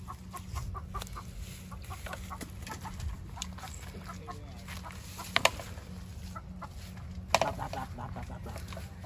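A yellow chicken clucks loose in an enclosure, scattered clucks and squawks over steady background noise, with a couple of sharper, louder calls near the middle and later, and no talk.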